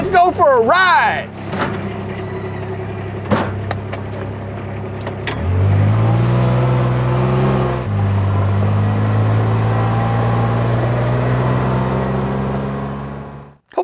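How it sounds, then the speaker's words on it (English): A Kubota RTV-X1140 utility vehicle's diesel engine cranks and starts, then settles into a steady, loud idle close by, with a slight shift in pitch partway through, and a voice cheering at the start. "1, 2, 3, ignition. Woo, it started right up."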